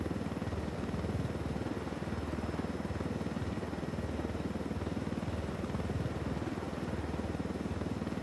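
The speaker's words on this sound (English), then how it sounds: "Land the helicopter and go quietly." Helicopter in the Ghost Recon video game during a Team Rainbow mission in Bolivia, a continuous rapid rotor thump and engine whine at steady, moderate level, no voices.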